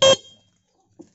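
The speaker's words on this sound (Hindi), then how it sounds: "हल्का हल्का टाइट करें और फिर हॉर्न बजा करके देखें।" A single short, loud electric two-wheeler horn blast, sharp and buzzy, followed by a brief faint thump and then quiet.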